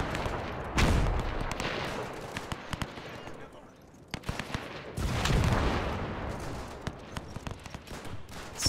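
Bursts of machine gun fire in a WW1 trench battle video game, rattling in rapid clusters with sharp cracks and distant booms, fading out midway and then returning loudly.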